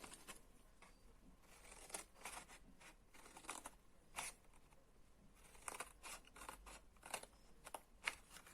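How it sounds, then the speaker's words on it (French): Scissors cutting paper to form a tab for a paper frog box, a quiet run of soft snips and crinkles at an irregular rhythm, close with no talking. "Nous allons couper pour pouvoir former notre languette."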